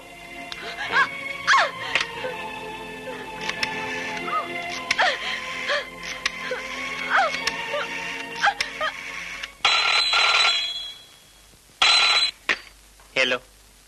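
A telephone rings repeatedly amid a noisy scene, with dogs barking and people shouting over it, followed by bursts of harsh noise.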